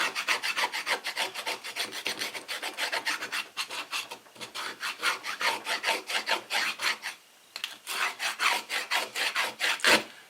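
Rapid, rhythmic rasping strokes of a dull knife edge scraping back and forth across a surface, close and fairly loud, with a brief pause midway.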